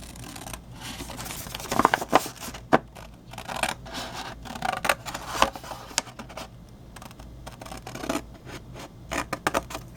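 Scissors snip and rub through paper while cutting squares and corners from a Halloween mummy flip-lid treat box template, with scattered close, quiet crisp cuts and scraping strokes and no talk.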